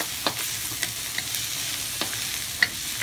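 Garlic frying in a pan with a soft, steady sizzle, punctuated by several sharp stirring scrapes and clinks.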